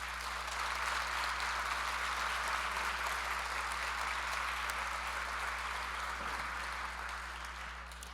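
Audience at an award presentation applauds with a steady, dense wash of clapping that holds for several seconds and fades slightly at the end.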